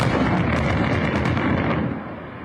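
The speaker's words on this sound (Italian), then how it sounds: "Un'esplosione spettacolare, quella dei massi che a Taormina rendevano pericolosa la via principale di accesso alla città." A controlled blast bringing down dangerous boulders above the main access road into Taormina, Sicily, heard as a loud, sustained broadband rumble of rock and debris that holds steady, then eases off near the end.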